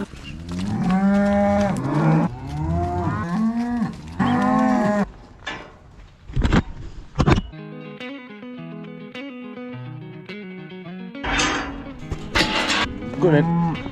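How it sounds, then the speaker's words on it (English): Cattle being herded in on a farm, cows and calves moving between barn and field, give several loud, close, drawn-out moos, followed by other farmyard noise. "all the cows are in, all the calves are back out into the field"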